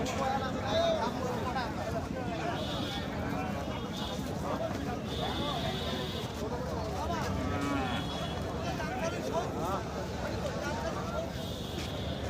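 Cattle low and moo over a steady crowd hubbub and nearby talking at a livestock market in Thakurgaon, a busy, continuous din of people and livestock.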